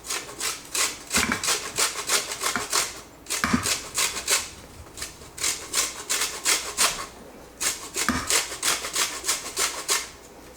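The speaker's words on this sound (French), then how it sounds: "Zester la lime. On va zester ça." A lime zested by hand, a steady rhythmic scraping that repeats fast and loud and close, with brief pauses between runs of strokes and no talk.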